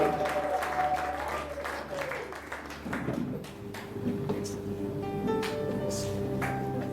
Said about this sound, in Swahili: Watu wa Mungu, tumpe Bwana makofi na vigelegele.